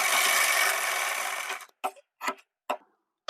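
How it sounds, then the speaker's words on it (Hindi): Sewing machine stitching a cross joint across fabric strips for gents' underwear, starting with a steady fast whirring run, then stopping to leave a few short separate bursts of stitching. "यहाँ पर क्रॉस में हम सिलाई लगाएंगे"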